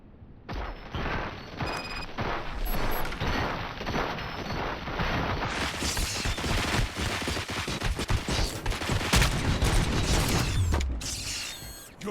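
Dense, continuous gunfire fills a fight in the video game Robocop Rogue City, with rapid overlapping shots, metallic mechanical clanks and occasional booms hammering along without pause for about twelve seconds.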